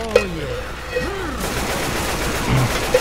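Bursts of gunfire in a Left 4 Dead–style co-op shooter game, sharp shots scattered through the clip over busy game noise and shifting tones, with players' voices faintly present.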